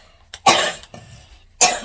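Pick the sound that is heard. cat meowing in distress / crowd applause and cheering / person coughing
person coughing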